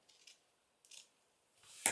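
Scissors snipping through a strip of lace during paper crafting, three short quiet cuts spaced apart, the last one sharper and louder, with no talking.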